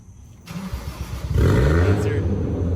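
A Toyota Crown JZS155 with a swapped 1JZ-GTE engine cranks and fires up in a garage, the starter whirring briefly before the engine catches and settles into a loud, steady idle close by.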